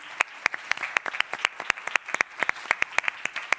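Applause from a small audience at a cultural rights summit panel, with distinct individual claps in an irregular, moderately sparse patter throughout.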